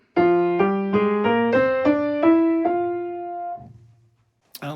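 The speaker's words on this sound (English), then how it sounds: "So the Ascending Melodic Minor sounds like this." A piano plays an ascending melodic minor scale, eight clear stepwise notes rising one after another at an even pace, each ringing with bright harmonics before the last note decays into silence.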